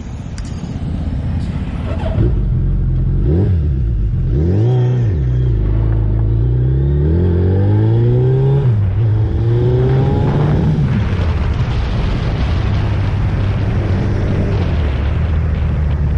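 A serviced Suzuki Hayabusa motorcycle roars loud and close on a test ride, its engine note climbing and falling through repeated revs and gear changes before settling into a steady rushing drone.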